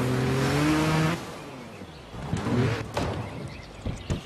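A motorbike engine in the video game Trials Evolution holds a loud, steady note, then drops and surges in short revving bursts during extreme trial riding.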